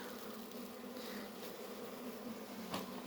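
Honeybees buzzing around an open hive while weak colonies are inspected: a continuous, fairly faint droning hum with a few louder passes, no talk.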